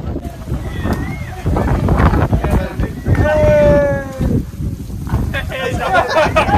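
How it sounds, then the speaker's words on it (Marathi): Strong wind blasts across the microphone at Aasheri fort on a trek, a loud roaring rumble that surges and dips, while people talk faintly through it. "तुफान हवा आहे."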